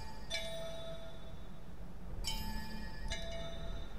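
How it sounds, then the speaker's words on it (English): Chiming bells rung one at a time in a bell-sequence puzzle in the Nevertales Legends video game: three bright, ringing strikes with long decays, at about 0.3, 2.2 and 3.1 seconds, over a low background hum. "Ring the bells in the correct sequence."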